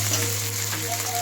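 Chopped tomatoes hit hot oil with ginger and garlic in a pan for a silver carp fish curry with potato and eggplant. A steady, dense sizzle runs close and loud throughout, with a low hum underneath.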